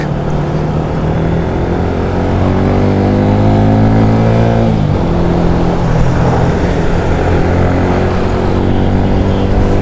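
Manual motorcycle in traffic shifting between engine braking and throttle, a loud continuous engine drone whose pitch falls as it slows midway and then rises again under acceleration, with no talking.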